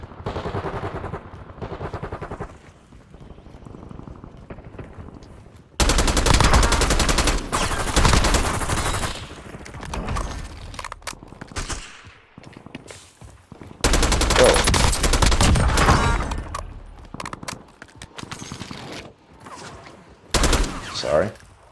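AK-74 gunfire in the video game Warzone at Verdansk, loud bursts of automatic fire in long sustained volleys with brief pauses between them.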